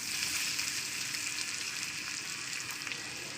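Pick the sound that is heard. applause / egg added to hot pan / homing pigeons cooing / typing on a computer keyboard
egg added to hot pan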